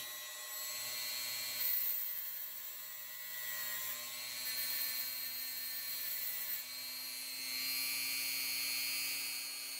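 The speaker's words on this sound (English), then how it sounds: "we're going to take our Dremel tool. We're going to polish these wheels" A Dremel rotary tool fitted with a plastic brush polishing the wheels of a Bachmann heavy duty model flatcar, giving a steady high-pitched whine that dips slightly as it meets the wheels, close and continuous, with no talking.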